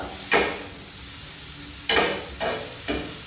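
Mint leaves frying in a pan for veg biryani, with a steady low sizzle and several sharp bursts of stirring or tossing noise spaced through the clip.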